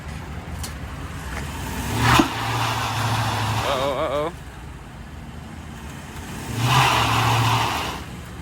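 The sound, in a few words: salvage Tesla wheels spinning, burning rubber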